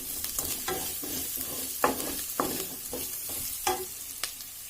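Onions fry in a pan over a medium flame with a soft continuous sizzle, while a spoon stirs and scrapes repeatedly in an uneven rhythm, close and quiet.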